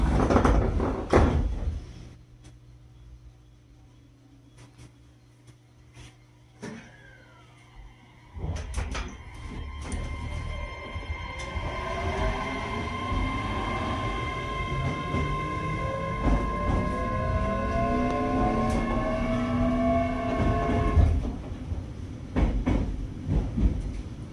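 A JR Kyushu 817 series train, set VT516, noted for an abnormal noise, closes its doors with a thud and pulls away, motor whine rising in pitch over steady rolling rumble, heard from inside the car.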